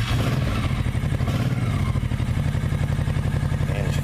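A 2006 Honda VTX 1100 Shadow Spirit motorcycle engine chugs with a steady, loping mid-pitched rumble throughout, fairly close and continuous, with no voices.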